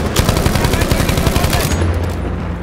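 Rapid, loud automatic gunfire from a Battlefield video game fires in a fast, steady burst of close shots before cutting off near the end.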